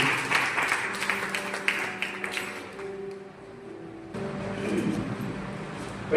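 A church congregation claps together during a Hindi-language Christian service, a dense, steady patter of applause that runs the whole stretch and fades slightly midway before picking back up.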